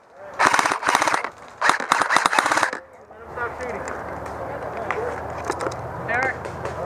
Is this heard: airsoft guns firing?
yes